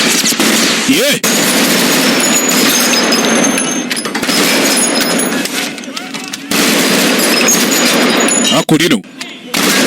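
A Planet of the Apes movie scene is filled with loud, continuous machine-gun and rifle fire in dense bursts, with brief gaps. A voice talks over the shooting.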